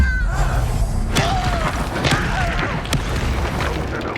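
Explosive spell blasts and magical combat impacts in the wizarding game Hogwarts Legacy, a dense run of booms, thuds and crackling hits with whooshing tones, loud and continuous.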